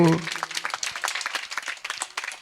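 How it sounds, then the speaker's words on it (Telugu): A church congregation at an evening meeting claps steadily and densely for about two seconds, a near, continuous wash of many hands, with a brief voice at the very start. "Can we give God a hand of praise?"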